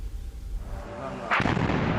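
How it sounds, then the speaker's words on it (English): A low rumbling blast builds, then a sharp loud explosion hits about halfway through, followed by a heavy booming roar, from air attacks on Ukraine's power grid and rail network. "As explosions thunder around them"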